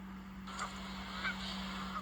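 Geese honk several times at a distance over a low steady hum, scattered calls rising above the background.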